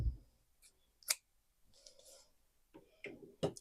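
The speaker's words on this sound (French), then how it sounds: "je viens couper mon fil" Scissors snip crochet yarn up close, a few quiet, crisp cuts and clicks separated by silence, with light handling rustle in between.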